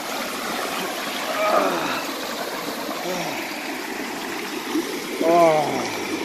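Creek water flows steadily at Sapphire Falls, a soft continuous rush and trickle heard close by, while a few brief faint voices chirp over it.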